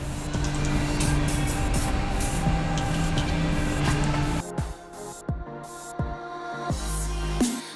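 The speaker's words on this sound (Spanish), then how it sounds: "Le echamos un poquito de afloja todo." Short hissing bursts of penetrating lubricant sprayed onto a drain bolt on a BMW Z4 transmission or differential, after a longer stretch of loud mechanical workshop noise.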